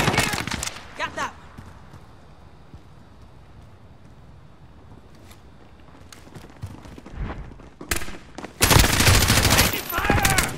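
Call of Duty: Modern Warfare game gunfire, with loud rapid bursts at the start and a heavier, sustained volley near the end, separated by a quieter stretch of distant shots and ambience.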